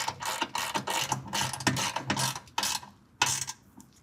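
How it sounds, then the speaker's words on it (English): Rapid clicking of a ratchet wrench with a deep-well socket tightening a bolt while installing a running-board step on a 2023 Ford F-250 SuperCrew, heard in several close bursts separated by short pauses. "We'll tighten that bolt to 16 foot-pounds."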